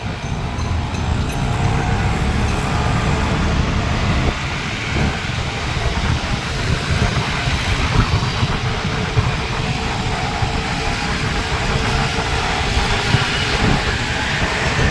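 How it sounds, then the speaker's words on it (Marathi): A steady, loud rumbling roar of a passing elevated metro train on the Ghatkopar–Versova line in Mumbai blends with traffic noise, continuous throughout with no speech. "ही आमची वर जाणारी मेट्रो घाटकोपर वर्सोवा"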